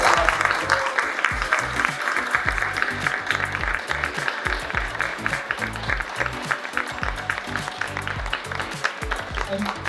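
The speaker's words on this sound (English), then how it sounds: "So give yourselves a round of applause" A crowd at a student design challenge final gives a long, loud round of applause, dense rapid clapping sustained evenly throughout with faint voices mixed beneath.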